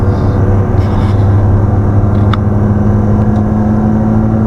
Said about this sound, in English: Traffic, man. Just sitting at a light.